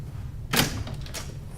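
A locked door is tried, giving a single close rattle and thud against a quiet indoor background.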